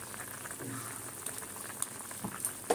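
A vegetable curry of elephant-foot-yam fritters simmers with ghee, giving a soft, steady bubbling close by, with a few faint pops and clicks.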